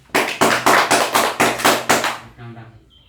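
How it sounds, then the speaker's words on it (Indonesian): A classroom group claps in a steady rhythmic burst of about eight even beats over roughly two seconds, close and fairly loud, then falls quiet. "kita beri aplaus untuk Barnabas dengan Paulinus"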